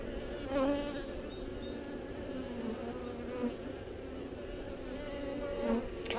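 Honey bees buzz steadily and softly around a hive while a nuc is being installed, a continuous hum with occasional bees passing closer to the microphone; no one speaks.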